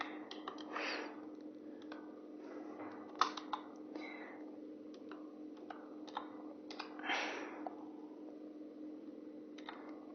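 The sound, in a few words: typing 'video editing' on a computer keyboard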